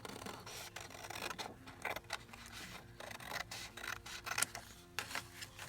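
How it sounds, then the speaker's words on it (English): Scissors snip through folded paper pages while making embellishments for a handmade book cover, a run of soft crisp cuts and rustles close by with no talking. "I'm just going to cut it."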